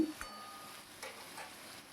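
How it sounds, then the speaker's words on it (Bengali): Taro and potato fry together in a pan, giving a soft, steady sizzle with light stirring scrapes. It is faint and close, with no talking. "কচুটা আর আলুটা বেশ ভাজা ভাজা করে নিতে হবে"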